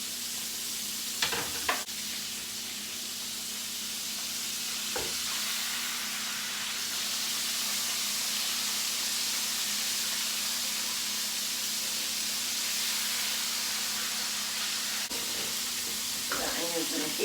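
Cut onions fry in a pan with a steady, hissing sizzle that holds at moderate volume throughout, with occasional clicks and clatter of cookware and a voice speaking now and then.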